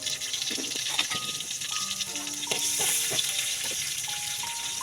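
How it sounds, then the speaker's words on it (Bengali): Garlic and onion sizzle in hot oil in a pot over a clay village stove as a tempering for dal, with a steady frying hiss, scattered crackles and a few clinks and tonal rings of utensils, close up and without talk. "আবার বাগার দানের লাই রসুন আর পেঁয়াজ দিয়ে বাগার দিতে আসি"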